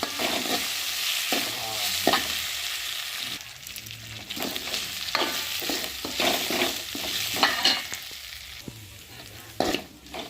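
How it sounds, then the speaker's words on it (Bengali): Moong dal is stirred and dry-roasted in a pan, with a spoon scraping and rattling the grains in an irregular rhythm over a soft, continuous sizzle, close and clear. "মুগ ডালটা এক থেকে দুই মিনিট নেড়ে চেড়ে ভেজে নিচ্ছি"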